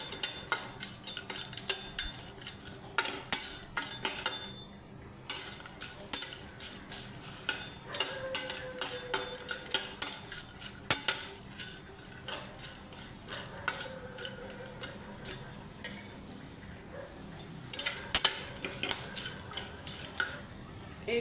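Spices for a Kolhapuri masala dry-roasting in a pan, with frequent scraping stirs and clinks of a spoon against metal over a faint crackle, irregular strokes coming close and clear throughout.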